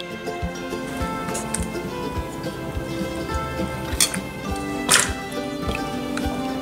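Fabric pieces are dipped and shifted about in a ferrous iron bath, giving scattered wet drips, light splashes and clinking taps over a soft background hum, with a couple of sharper splashes near the end.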